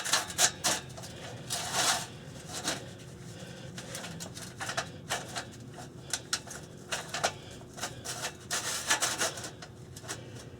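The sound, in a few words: exhaust clamp slid over muffler pipe on Ford Super Duty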